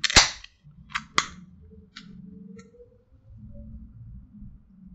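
A can of Oreo-flavored Coca-Cola cracked open: a sharp, close snap and hiss at the start, a second quick pop, then faint fizzing and small clinks in a quiet room.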